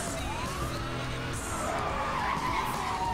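Tires skid and squeal as a car drifts in Need for Speed Hot Pursuit on the Fox Lair Pass course, a sustained rising screech over engine roar.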